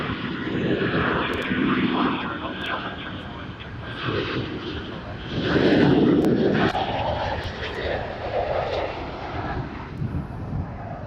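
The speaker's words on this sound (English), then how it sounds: "511, runway 34 right, clear for takeoff." An airplane takes off from runway 34 right at Sydney Airport. A broad, steady engine roar swells midway through, with radio voices talking over it.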